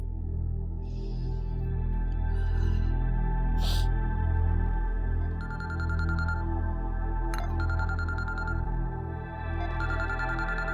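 A phone ringtone plays in a home scene from a Pakistani TV drama, a repeating electronic melody over a steady background music bed, with no talking.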